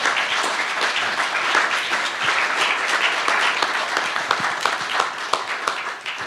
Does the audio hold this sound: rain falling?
no